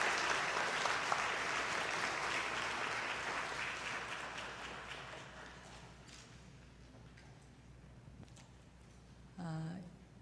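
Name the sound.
audience applause welcoming a guest at a concert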